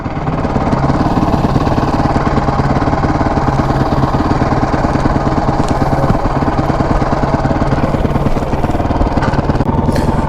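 A motorcycle engine chugs loud and close, a steady rapid thumping rumble that holds for the whole stretch without easing off.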